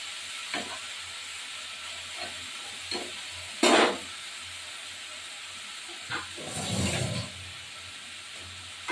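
Cauliflower leaves frying in a pan with little oil, giving a soft steady hiss with a few scattered scraping knocks and one louder burst of sizzle mid-way, close but fairly quiet, with no speech.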